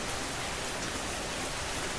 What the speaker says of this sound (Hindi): कुछ ही देर में बहुत तेज बारिश होने लगती है।